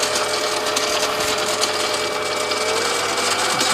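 Kawasaki KZ motorcycle engine spun up to about 600 RPM, a steady, fast mechanical whirring and chatter that runs continuously at close range with no voices.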